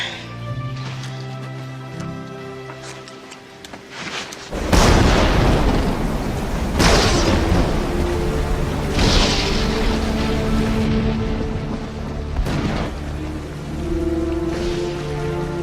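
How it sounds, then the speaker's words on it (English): A dramatised thunderstorm with rain and wind, starting with quieter background tones, then a sudden loud crash about a third of the way in, followed by heavy rain noise and further booming rumbles mixed with music. "It's a terrible storm."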